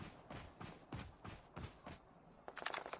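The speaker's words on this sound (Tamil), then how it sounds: "எங்கயோ சுட்டுக்கிட்டு இருக்கானுங்கடா." Automatic gunfire in the Call of Duty Mobile sandstorm battle royale mode, several fairly quiet bursts at a steady rhythm with a gap near the end, then a sharper closer burst.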